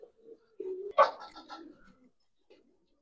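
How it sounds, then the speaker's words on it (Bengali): Soft cooing calls from giribaz and coloring pigeons at a pigeon farm, a few short throaty phrases with a louder burst in the middle, close by and otherwise quiet. "এটা কিন্তু আমার ফার্মের কবুতর, নিজস্ব কবুতর"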